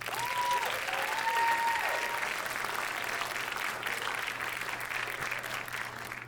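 Broad, steady applause from a big crowd honoring family and friends at a ceremony, a continuous wash of clapping with faint whistles or cheers near the start, holding fairly level throughout.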